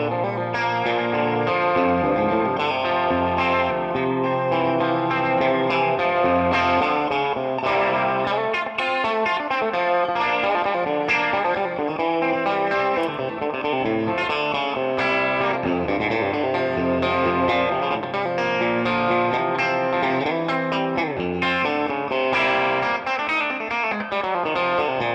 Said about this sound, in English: That's with a vibrato pedal.